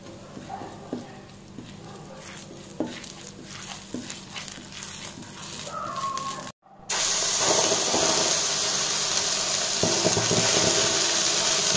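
Garam masala, coriander powder and chaat masala are sautéed in a pan for street-style masala puri. Faint kitchen clatter gives way midway to a steady, loud sizzling hiss that keeps going to the end.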